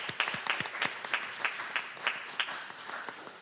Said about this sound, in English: we can all clap for that